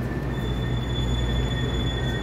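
A four-car EMU500 electric multiple unit commuter train on a Taiwan rail line runs past with a steady, continuous rumble, a loud wash of rolling noise and faint high whines held throughout.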